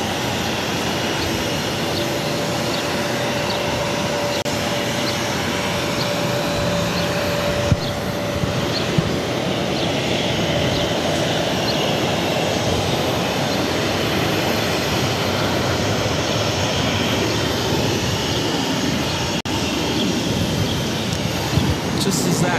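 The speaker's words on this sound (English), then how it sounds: "737-800 taking off to San Francisco, Alaska Airlines" An Alaska Airlines Boeing 737-800 takes off from Boston Logan bound for San Francisco, a continuous broad engine roar heard from a distance, steady and dense, with a person talking over it.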